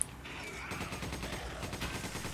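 Rapid gunfire rattles through a Resident Evil 5 firefight, a dense run of shots over steady game noise with no voices.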